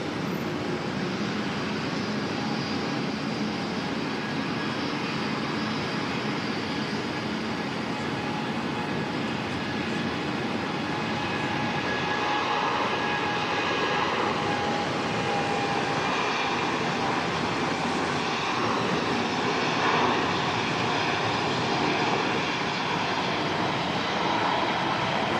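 Aircraft engine roar at Auckland Airport, a sustained broad rumble with faint whining tones that swells slightly as the plane passes, steady and fairly loud with no talking.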